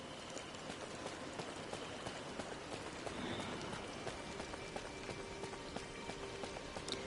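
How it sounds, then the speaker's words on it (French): Steady rain falls in the video game Disney Dreamlight Valley, a constant soft hiss of drops spread evenly across the whole stretch with no talking. "Oh, il pleut."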